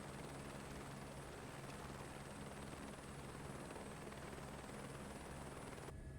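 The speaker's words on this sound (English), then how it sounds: "definitely enjoying the chopper action." A helicopter flies in Microsoft Flight Simulator 2024, its rotor and engine drone steady, loud and close the whole way through, with no talking.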